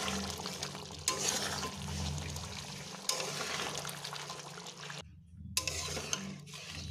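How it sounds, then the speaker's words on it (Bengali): Ground garam masala is stirred into a pot of country chicken curry, giving wet, sloshing, scraping sounds with spoon knocks, close and uneven, with a short pause near the end. "গরম মশলাটা দিয়ে আমি এবারে একটু মিশিয়ে নেব।"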